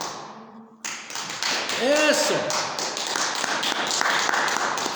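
Church congregation applauding during a sermon, a full steady roar of clapping that swells after a brief spoken word and continues loudly, with some voices mixed in.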